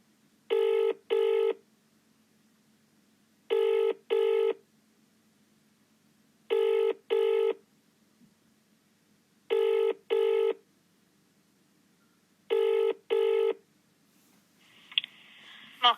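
A phone call to Market Square Surgery rings out in five evenly spaced double rings, loud and clean, with a quiet background and a short burst of noise at the very end.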